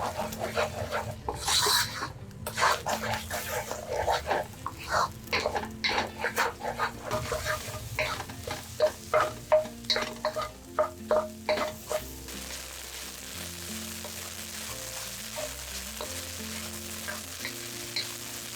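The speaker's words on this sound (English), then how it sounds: "for fried rice, I like when it gets a little bit crispy, so I'm frying it until it's slightly brown" Egg scrambling and frying in oil in a wok until crispy and slightly brown for quick egg fried rice, a steady sizzle broken by sharp clanking spatula strikes, busiest in the first twelve seconds before settling into a softer fry.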